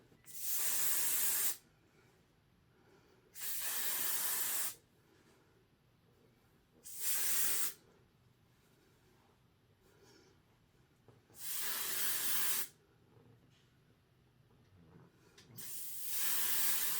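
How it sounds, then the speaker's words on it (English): Aerosol hair texture spray hisses in five separate bursts, each lasting a second or two, with quiet pauses between them. "Took a little texture spray through."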